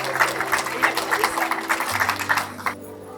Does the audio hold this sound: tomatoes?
no